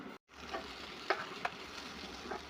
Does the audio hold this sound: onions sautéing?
yes